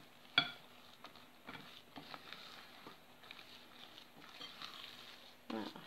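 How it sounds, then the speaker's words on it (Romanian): Slow stirring of a cocoa cake batter made with egg whites, soft scraping and patting strokes in a bowl, quiet and close, with a sharp tap near the start and a few light clinks. "Și acum amestecăm, amestecăm încet, încet, așa, până incorporăm totul."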